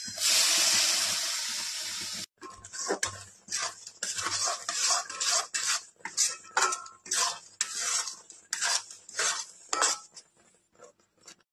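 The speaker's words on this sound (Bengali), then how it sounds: "এদিকে আমি তিলটা ভেজে নিচ্ছি।" Sesame seeds are stirred in a pan for a Bengali coconut suji pitha: a loud hiss opens, then rhythmic scraping and clinking strokes of a utensil against the pan repeat steadily, close and clear, without talk.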